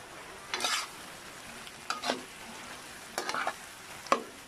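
Squid frying for adobo in a pan, with four separate bursts of sizzling and scraping as it is stirred, close and moderately loud with quiet gaps between.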